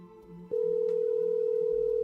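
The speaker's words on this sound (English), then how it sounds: "I wonder whose phone is ringing." An electronic telephone ring begins after a short quiet stretch as a loud, steady, unbroken tone, close up and alone with no talking.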